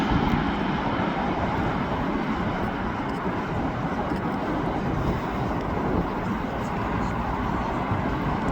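An AirTanker Airbus A330 landing at Manchester Airport, a continuous loud broadband engine roar mixed with wind buffeting on the microphone, steady throughout the approach.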